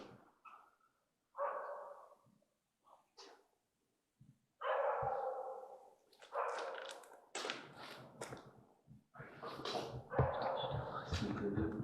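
A dog barks repeatedly at night during a paranormal investigation, sharp close barks in uneven bursts, with people talking in between and over them.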